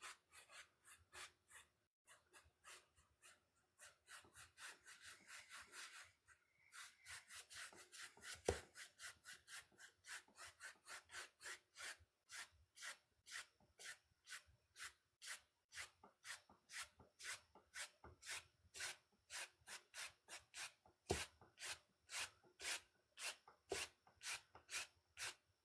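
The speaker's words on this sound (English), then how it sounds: "Towards the outside, you can rub it in a little bit more." Soft rhythmic rubbing of a brush working oil paint into canvas, steady repeated strokes close and quiet, growing slightly faster and more regular midway, with no talking.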